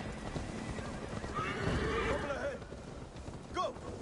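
A horse gallops with rapid clip-clop hoofbeats and lets out a sharp neigh near the end, amid a skirmish in Assassin's Creed Valhalla, with faint voices and battle noise underneath.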